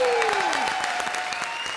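A studio audience on the Comedy Circus comedy show breaks into loud, close applause for actor John, dense clapping that runs throughout beneath a falling musical sting and a sustained tone.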